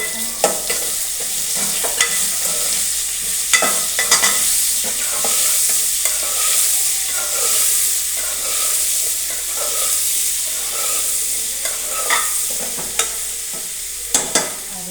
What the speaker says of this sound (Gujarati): ભીંડાની જ્યાં સુધી લાર બળી ન જાય ત્યાં સુધી આપણે તેને ગેસ ઉપર આવી રીતે હલાવતા રહીશું.